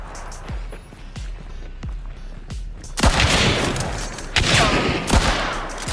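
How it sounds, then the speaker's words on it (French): Video game gunfire crackles in bursts: a few spaced sharp shots at first, then dense, louder fusillade of rapid overlapping reports with heavy echoing booms, no talk over it. "C'est pas sur moi que ça tire."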